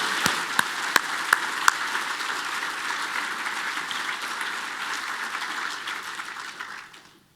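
Sustained applause from a conference crowd, steady and fairly loud, with a few sharp individual claps standing out early before it fades away at the end.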